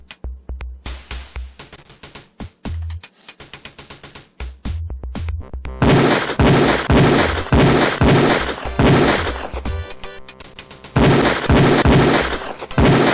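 A Beretta pistol fires repeatedly at a police firing range in Police Quest 4, with sharp, close shots coming in irregular bursts and series, some rapid and clustered, separated by short pauses.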